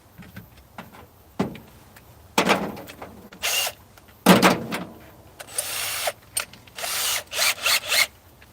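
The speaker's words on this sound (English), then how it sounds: "I'm gonna drill a hole right there." A power drill whirs in short bursts of varying length while drilling a hole in a truck, starting and stopping repeatedly, with quiet pauses and light clatter between.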